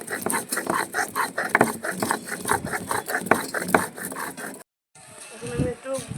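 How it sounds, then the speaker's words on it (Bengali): Garam masala spices get ground on a grinding stone with a steady back-and-forth rubbing rhythm, close and moderately loud, followed by a brief gap and softer scraping. "এখন আমি মাছের জন্য আর মোচার জন্য একটু গরম মশলা বেটে নেব।"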